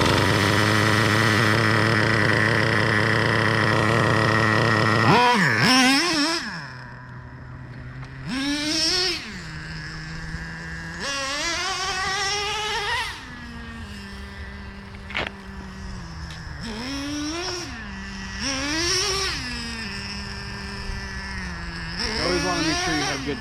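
A Traxxas Revo 3.3 nitro RC truck engine during break-in, idling with a buzzy drone and then revving up in repeated high-pitched bursts before settling back, loud and close, with brief talk in between.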